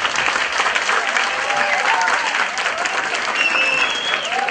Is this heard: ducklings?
no